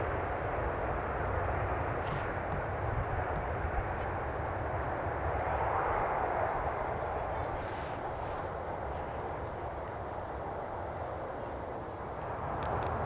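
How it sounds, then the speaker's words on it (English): A British Airways airliner lands at Manchester Airport, its engines a broad steady roar heard from a distance outdoors, holding level throughout with faint bird calls now and then. "Oh, a very smooth landing there from the British Airways."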